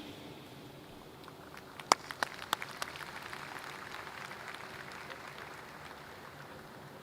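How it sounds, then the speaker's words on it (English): Distant audience applause at a youth baseball team's welcome dinner begins with a few sharp, separate claps, then settles into a soft, steady patter of clapping from a crowd heard from far away. "one more round of applause for the Power Showcase Rookies American League team"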